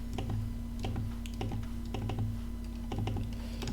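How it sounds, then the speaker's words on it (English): Middle scroll-wheel button of a Logitech G903 HERO gaming mouse clicked repeatedly, giving several sharp, close clicks in an uneven rhythm over a steady low electrical hum. "one middle mouse button click"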